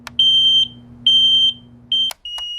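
Smoke detector sounding as its test button is held: loud, piercing electronic beeps in a rhythmic pattern of three long tones and a short one over a faint low hum.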